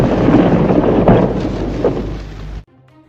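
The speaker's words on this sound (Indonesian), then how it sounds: "Kenapa ya seperti ada petir yang menggelegar?" Loud rumbling thunder rolls in a broad, heavy roar with a couple of sharper swells, then cuts off abruptly to near silence.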